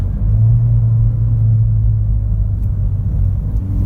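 Ford Fiesta ST with Cobb traction control accelerating hard, a loud steady low engine drone and road rumble running throughout, with a slight stutter in the pull partway through.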